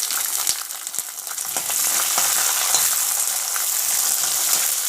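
Small sambar onions hit hot oil with browned garlic and curry leaves for a tamarind kuzhambu, a steady bright sizzle with occasional stirring clicks, close and continuous, no talking.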